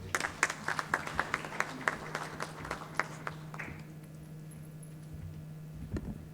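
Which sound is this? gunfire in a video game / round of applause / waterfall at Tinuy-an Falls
round of applause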